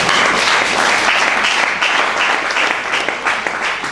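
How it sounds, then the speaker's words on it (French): Dense, sustained clapping from a crowd at a press conference in Kinshasa, loud and close, filling the whole stretch without any speech on top. "comprenez que nous devons quand même applaudir"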